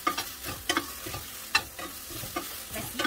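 Meat sizzles quietly in a sauté pan while a utensil stirs and scrapes it, giving soft irregular clicks over a faint crackling hiss.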